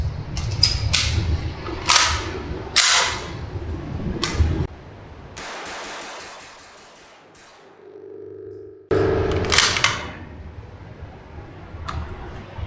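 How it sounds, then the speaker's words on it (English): A Zenith ZF-5, an MP5-style gun, fires its first ten rounds as a string of sharp, loud shots in irregular groups, with a lull in the middle and more rapid reports near the end. "let's let her rip first 10 rounds."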